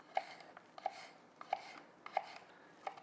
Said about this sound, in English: So I'm just gonna kind of get some slices.